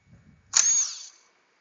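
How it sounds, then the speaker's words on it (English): A short burst from an Ingersoll Rand air power tool working on the water pump of a 2016 Chevy Cruze 1.4L turbo: one quick high-pitched whirring whine of under a second, close and fairly loud, after faint low rumbling. "I'm gonna use the Ingersoll Rand which it has more RPMs and more torque for this."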